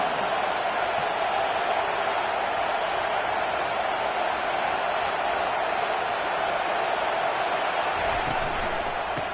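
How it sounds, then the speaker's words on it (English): A large college football stadium crowd at Auburn roars steadily and loudly, a dense wall of cheering and noise that barely changes throughout. "This crowd bringing the energy and noise early."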